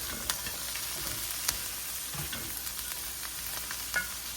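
Cauliflower fries in a pan for fried rice, giving a close, continuous sizzle with soft stirring scrapes and occasional light clicks.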